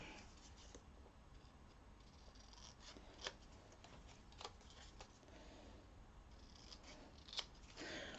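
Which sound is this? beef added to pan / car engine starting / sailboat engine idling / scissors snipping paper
scissors snipping paper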